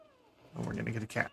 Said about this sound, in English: Oh, we're gonna get a cat.